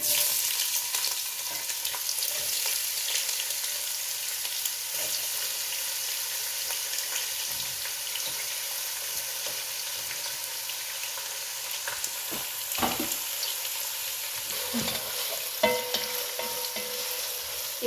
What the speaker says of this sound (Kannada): ಸ್ವಲ್ಪ ಆನಿಯನ್ನು ಫ್ರೈ ಆಗಲಿ